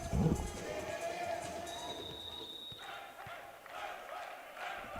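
Shouts and cheers from the Essex Rebels team bench during a men's Super League volleyball match in an indoor hall, mixed with general crowd noise and a squeaking shoe, at moderate distance.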